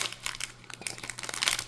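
Plastic wrapping on a Pokemon TCG Ogerpon ex Premium Collection box being crinkled and torn open, a continuous close, loud rustling and crackling with no talk.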